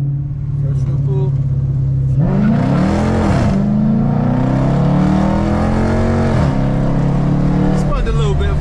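A Chrysler 300 Hemi on 275 tires accelerating hard, the engine note rising and holding as it pulls under a steady loud drone, with a couple of shifts in pitch along the run.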